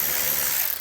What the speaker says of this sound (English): we'll grab our socket,